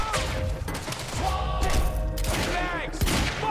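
Gunfire in the video game Quantum Break, a dense close barrage of shots and thuds layered over game music and effects, continuous through the whole stretch.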